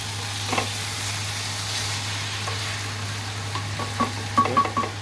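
Spices and ingredients fry and get stirred in a hot pan, with a steady sizzle running throughout and scraping stir strokes growing busier near the end; no talking.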